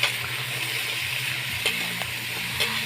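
Chopped chayote sautéing in a pan, a continuous moderate sizzle with occasional scrapes and clinks from stirring, no voices.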